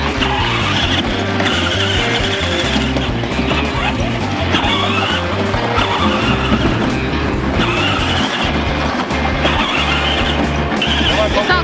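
A large off-road vehicle plows through a swamp with deep puddles, its engine roaring loudly and continuously, with splashing and churning and some voices underneath.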